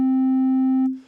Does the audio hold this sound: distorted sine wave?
yes